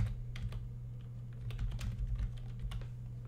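Quiet, irregular clicking of keys being typed on a computer keyboard, a quick run of light taps over a low steady hum.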